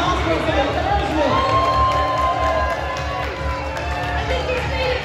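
A crowd at a Disney Cruise Marvel Day at Sea event for babies cheers and claps loudly, a dense continuous roar of whoops and applause with shouting voices mixed in, near and full throughout.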